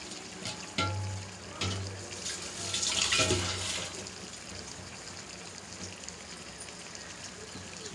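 A kitchen water tap runs while raw chicken is washed under it, a steady close hiss of splashing water with a few louder clatters and surges partway through; no speech.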